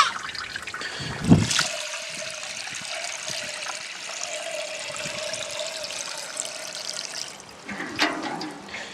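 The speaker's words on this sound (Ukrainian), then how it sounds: "Поставив марлю, щоб краще фільтрувало, бо вода з криниці" Well water trickles steadily through a gauze filter into a container for mixing a urea spray for spring apple trees, a soft continuous liquid flow with a faint steady tone and brief louder splashes near the start and end.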